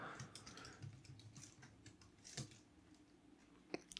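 Quiet keyboard typing at a computer while writing a C source file in the vi editor in a terminal, scattered soft key clicks with a few sharper taps near the end.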